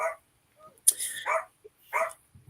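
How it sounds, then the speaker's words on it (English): Dog barking indoors in a few short, sharp bursts with brief yips between, fairly close and separated by silence, with no talk over it. "The dog's barking."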